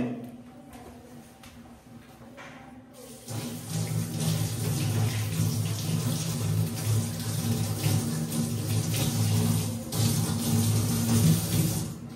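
Water runs steadily from a kitchen tap into a sink while cooking, starting after a quiet moment and continuing loud and close as a constant gush, with no talk.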